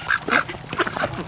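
Muscovy ducks squabbling as males pick at each other over females, a quick burst of several harsh close calls and hisses in uneven rhythm, no voices.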